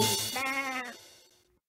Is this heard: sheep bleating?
yes